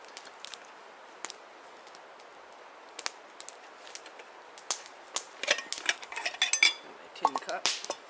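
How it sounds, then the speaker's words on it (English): A metal camping pot picked up beside a cedar campfire, with scattered clinks and clanks that thicken into a busy rattle of metal near the end, close by, with no talking. "So I'm gonna grab my pot."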